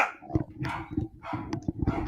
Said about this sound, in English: It was probably the stupid dog at his house that just random barks.